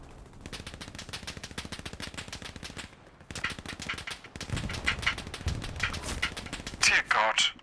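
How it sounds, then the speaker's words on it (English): MG42 machine guns rattle in a World War II video game: long, fast, continuous bursts of gunfire, close and steady, pausing briefly before resuming, with voices and game sounds mixed in. "We have MG42s behind us."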